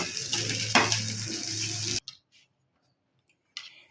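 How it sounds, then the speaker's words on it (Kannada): A mixer grinder blends a radish-stalk chutney with tamarind, ginger and salt, giving a loud close whirring grind for about two seconds before cutting off to near silence and a few faint clicks. "ಈಗ ಮಿಕ್ಸಿ ಮಾಡ್ತೀನಿ"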